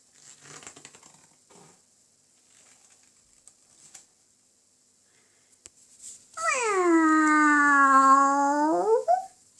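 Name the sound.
animal howling in a dark forest, audiobook sound effect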